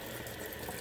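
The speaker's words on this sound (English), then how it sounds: "when I strain the grease, I like to run hot water to prevent the grease clogging my water" Hot water running steadily from a kitchen sink tap while grease is strained, a continuous moderate rushing hiss nearby with no voices.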